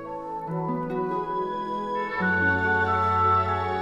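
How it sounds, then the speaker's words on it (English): Orchestral flute joined by an alto flute playing a counter melody that fills in chord tones over sustained harmony in a beautiful intro, steady, smooth and moderately loud, with no voices. "I also added an alto flute for a little bit of more color"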